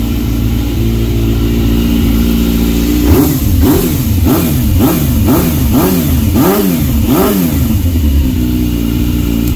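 A 2001 Yamaha YZF600R Thundercat engine idles loudly and close, then gets blipped through a series of about seven quick throttle revs that rise and fall in a steady rhythm.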